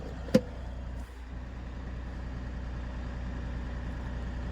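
A Mahindra petrol vehicle with about 50,000 km on it starts with a sharp brief burst, then settles into a steady, smooth low idle that continues evenly and close by, with no voices.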